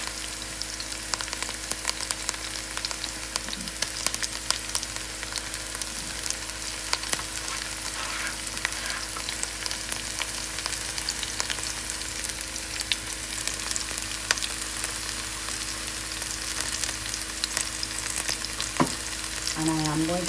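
Garlic fries in hot oil in a pan for curry chicken wings, giving a steady, dense sizzle that runs unbroken and close throughout, with no talk.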